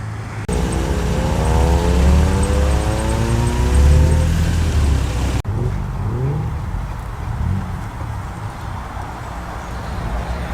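Classic cars, including a Mark 2 MX-5, a Porsche 944 and a Triumph TR4, rolling in to an outdoor car show and road run. A loud close engine drone shifts in pitch as one car passes, then fainter engines follow.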